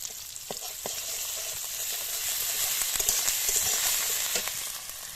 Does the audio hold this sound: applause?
no